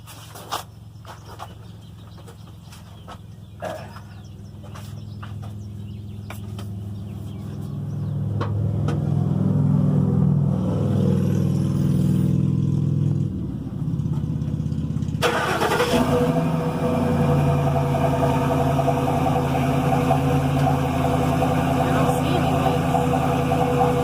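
Truck engine turned over with the key and then running at a steady idle, preceded by clicks and handling noises, the rumble staying loud and close for most of the stretch.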